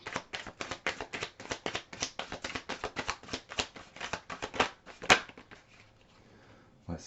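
Tarot cards being shuffled by hand, a rapid run of crisp riffling flicks in a steady rhythm, then a sharper slap as a card is drawn and a quieter pause afterward.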